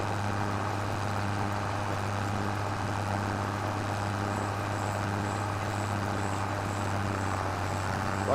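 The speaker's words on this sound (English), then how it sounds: "I do like the way this tractor sounds." A tractor engine in Farming Simulator 25 drones steadily with a low, even rumble and no change in pitch, close and constant throughout, with no voices over it.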